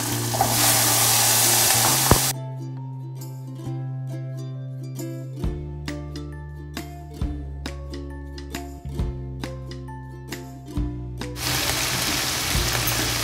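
Onion, tomato and green chilli for chilli paneer frying in a pan: a loud hiss opens and closes the clip, with a run of sharp spoon taps and scrapes on the pan in between.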